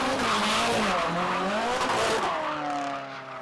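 Ken Block's rally car revs hard while warming up, its loud engine note climbing and falling over a continuous tire screech, close and unbroken, tapering slightly at the end.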